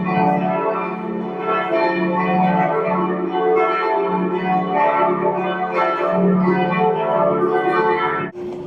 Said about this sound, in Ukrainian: Ось так звучить дзвін церкви